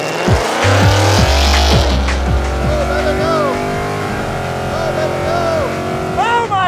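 A Ford Mustang launches hard down a drag strip with a loud, rising engine roar and sharp gear changes, then pulls away and fades into the distance.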